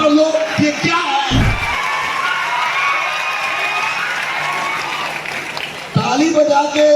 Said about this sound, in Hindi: ताली बजा के खुश होकर ताली बजा रहे हो कि अफसोस होकर ताली बजा रहे हो